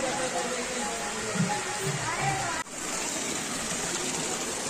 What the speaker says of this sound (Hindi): ये यहाँ नहाने के लिए झरना एक निकल रहा है जो पहाड़ों से कुदरती पानी निकल रहा है